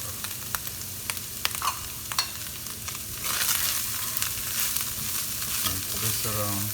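A stuffing mixture seasoned with oregano, cumin and chili powder fries in a pan, sharp spoon clicks on the rim early on, then a louder, sustained sizzle as it is stirred around, no voices.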